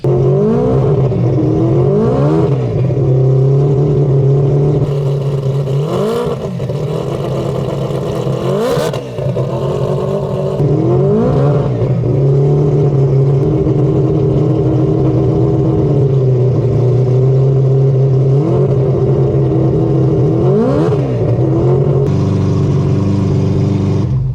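A turbocharged four-rotor rotary engine in an all-wheel-drive car revs hard and loud in repeated sharp blips over a raspy, clattering idle, with no voices.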